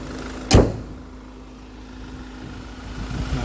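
A Hyundai Grand Santa Fe 2.2 diesel, 2019 model, has its engine hood shut with a single sharp, close thud, followed by a steady low hum in the background.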